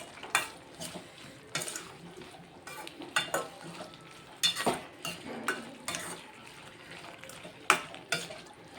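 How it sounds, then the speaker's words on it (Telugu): A spoon scrapes and stirs turmeric through tomato and ridge gourd chutney cooking in a pan, with steady soft sizzling underneath and irregular clinks and scrapes against the metal, all fairly quiet. "ఇదంతా ఒకసారి కలిపేసుకుంటాం"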